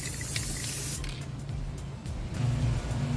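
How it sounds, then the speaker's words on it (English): A can of Krylon Fusion black spray paint hisses in a loud continuous burst onto a coffee can, then sprays again in shorter hissing bursts against a low background hum. "Krylon Fusion black spray paint. So as per usual, make sure you're in a well ventilated area and just spray away"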